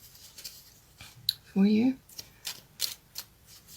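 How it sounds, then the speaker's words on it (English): A deck of destiny cards gets a quick shuffle, heard as a few crisp papery clicks and taps scattered across a few seconds, with a short burst of speech in the middle. "I'm just going to give you a quick shuffle and pull out a card"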